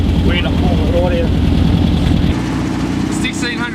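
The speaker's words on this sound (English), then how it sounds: "1600cc engine in this buggy roars when it wants to. Just bellows out the back." A 1600cc beach buggy engine runs with a deep, steady rumble, loud and close throughout, easing slightly toward the end while faint voices come through beneath it.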